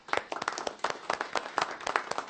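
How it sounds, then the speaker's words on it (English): Board meeting attendees clap in a small, sparse round of applause, a few pairs of hands giving separate, uneven claps close by with no talk. "But I do want to give you a round of applause."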